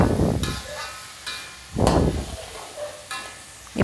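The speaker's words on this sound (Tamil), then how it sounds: "தேவையான அளவுக்கு உப்பு சேர்த்தாச்சு, நல்லா கிண்டிக்கிங்க." Chicken in a salted turmeric mixture stirred in a pan for ayam kunyit, with repeated scraping sweeps of the utensil in a loose rhythm over a sizzling background.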